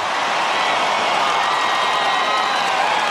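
Stadium crowd at a 2009 Australian rules football match between Adelaide and Carlton roars after a goal, a loud, unbroken wash of cheering that holds steady throughout.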